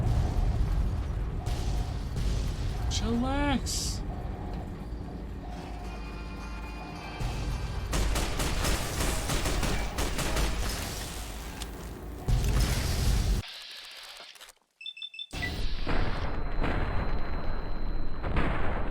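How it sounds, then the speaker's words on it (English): Dense, continuous explosions and artillery-like booms from a video game pound on for most of the stretch, dropping out briefly before resuming, with a voice exclaiming once amid the barrage. "So why is there so much explosions?"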